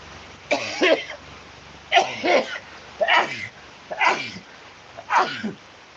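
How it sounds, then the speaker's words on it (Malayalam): A person sneezes during a rainy-day live stream, giving five sharp, breathy bursts spaced about a second apart, close and fairly loud, with no other talking. "ഒരു തുമ്മൽ വന്നേ"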